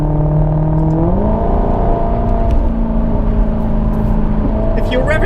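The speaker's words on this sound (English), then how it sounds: "If you're revving it through, the engine has plenty of pace, and it sounds amazing" A £900 German car's engine revs while driving, a steady loud drone that climbs in pitch once, then holds, with a voice talking over it.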